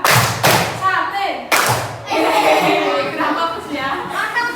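Young pupils in a primary classroom clap together in a rhythmic spirit-clapping routine, two sharp loud bursts of group claps near the start, then children and a teacher talking and chanting.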